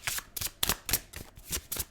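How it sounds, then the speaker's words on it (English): Tarot cards being pulled and shuffled from a deck, a quick run of soft crisp riffling flicks about eight strokes in under two seconds, close and quiet with no voice. "I'm going to pull some more cards and see"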